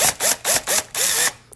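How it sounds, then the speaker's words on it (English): Nuts are tightened on a TV wall mount bracket in about five quick, close bursts in a steady rhythm, ending with a slightly longer final pull. "So here we are going to tighten the nuts right there."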